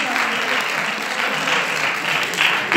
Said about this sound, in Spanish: ¡Aplaudir, hombre, aplaudir!